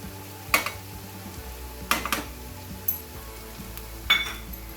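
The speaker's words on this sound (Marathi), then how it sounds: "आणि मसाला ह्या तेलात छान एकजीव करायचा." Malvani masala stirred into hot oil in a pan for onion sambar: a soft steady sizzle with a few scraping, clinking strokes of a spoon against the pan at irregular intervals, close and fairly quiet, with no talking.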